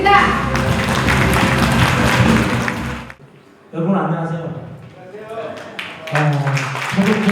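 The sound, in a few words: audience applause welcoming a speaker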